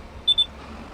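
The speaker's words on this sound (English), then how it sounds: "What's that beeping noise I keep hearing?" Two quick high electronic beeps sound close together in Farming Simulator 25, brief and moderately loud against a quiet background.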